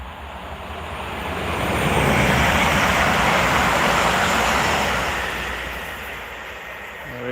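A West Midlands Railway Class 350 electric train passes on the West Coast Main Line near Crewe, a broad roar that swells to a peak midway and then fades.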